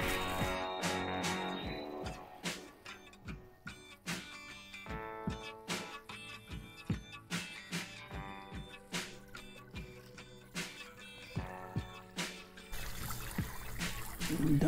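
Water from a garden hose splashing and trickling over beeswax comb in a container, irregular pulsing gushes with close handling knocks, steady and fairly loud throughout.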